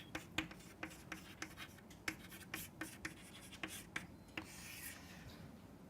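A formula written by hand during a statistics lecture makes quick, quiet scratching strokes in an irregular rhythm, close by and with no talking.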